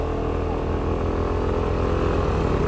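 An Aprilia SR 150 scooter engine labours up a rough offroad track, giving a loud, steady, close droning hum that holds without a break.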